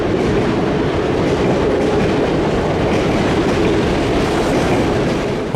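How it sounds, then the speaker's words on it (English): A Pullman passenger train glides along slick rails, heard as a continuous close rumble of rolling cars with a steady clickety-clack of wheels throughout. "a matching Pullman passenger train gliding along the slickened rails beneath me."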